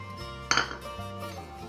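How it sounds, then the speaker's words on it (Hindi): Raw mango pieces clatter into a blender jar in one quick clinking burst, then a low hum continues with no talk. "इसमें कैरी डाल देते हैं जार में।"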